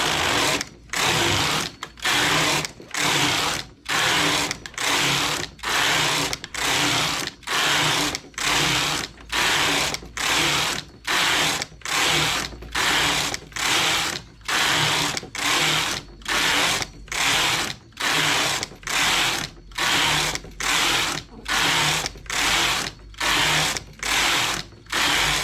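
A knitting machine works rows of a baby's pants, its carriage sliding back and forth in a steady rattling rhythm of about thirty passes with brief gaps between them, close and alone.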